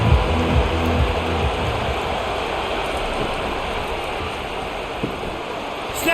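Steady rain in the EA College Football video game pours down as a loud, even hiss across the field, constant from start to end with a few faint low thuds early on.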